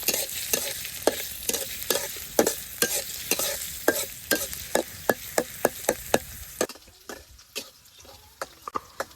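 Green chillies, garlic and onion frying in a pan, a bright sizzle under a quick run of sharp spatula taps and scrapes, the frying fading toward the end while the stirring clicks continue.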